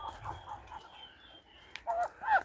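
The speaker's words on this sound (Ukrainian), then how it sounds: "Тут у нас любов, молоді качки і молоді качурі вже спарюються" Young ducks and drakes in a farm poultry yard, with a few soft quacks and short nasal calls, close by and fairly quiet, rising to louder calls near the end.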